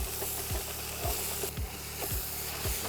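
Onion and smoked bacon being stirred in a sizzling pan, a steady frying hiss with the spoon scraping through about every half second in an even rhythm, close and clear with no talk.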